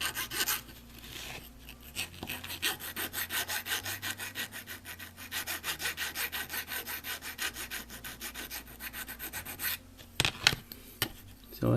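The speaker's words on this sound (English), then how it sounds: "I'll deburr these little edges here." A hand file rasps back and forth over the metal edges of a Nikon Nikkor 35mm f/2 lens mount, deburring it in quick, regular close-up strokes that pause briefly and resume, with a few light knocks near the end.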